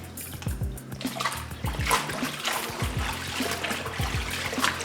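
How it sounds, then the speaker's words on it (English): Collard greens are pushed down and swished in a sink of rinse water, giving close, continuous splashing and sloshing with dribbling trickles and repeated low plunging thumps. "Push them down again, submerge them again."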